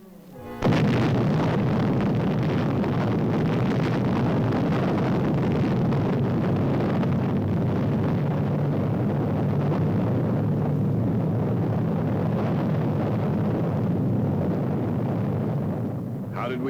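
A sudden huge blast opens into a long, continuous roaring rumble that stays loud and dense for many seconds before easing slightly.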